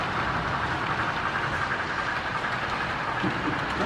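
Heavy brass passenger car pulled by a model train at a train show, a steady, dense rolling rumble with faint clatter running continuously throughout at close range.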